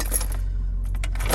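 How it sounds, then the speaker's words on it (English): Car keys jingle briefly as they are shifted in the center console of a 2020 Jaguar F-Type P300 R-Dynamic coupe, a short close metallic rattle in two quick bursts. "I'll move the keys out of the way so you can see."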